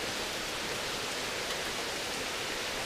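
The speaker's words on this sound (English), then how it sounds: "the rain's really coming down now" Heavy rain pours outdoors by a bridge at a fishing spot, a steady dense hiss of drops with no break, close and even throughout.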